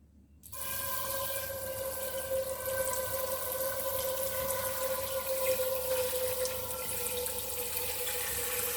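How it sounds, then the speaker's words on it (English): Water runs from a kitchen tap into a pot for pasta, a steady close rush with a rising tonal ring as the pot fills, starting abruptly after a brief silence and continuing throughout. "let me grab a pot and fill it up with water for my pasta."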